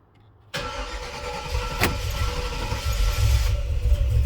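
A 1995 dually pickup truck engine with 200,000 miles, treated with Seafoam, cranks and catches abruptly, then settles into a loud, rough, steady idle close by.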